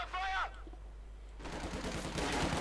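Dense rifle and machine gun fire from the Company of Heroes 2 strategy game, a loud continuous crackle of rapid shots taking over after a brief voice and a lull, sustained to the end.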